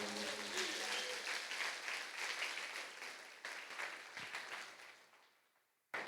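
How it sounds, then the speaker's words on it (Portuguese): A church congregation gives a loud, dense round of clapping that fades out gradually, then cuts off abruptly. "Dê um forte aplauso ao Senhor."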